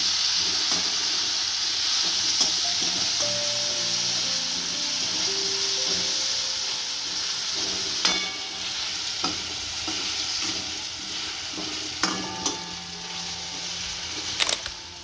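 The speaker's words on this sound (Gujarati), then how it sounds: "કટિંગ કરેલું ટમેટું નાખીશું, ટમેટું સાવ છેડવી લેશું" Chopped tomato is sautéed and stirred in a hot pan while making a spinach and moong dish, giving a steady close sizzle and hiss. Several sharp clinks of the spoon against the pan break through it, with no talking.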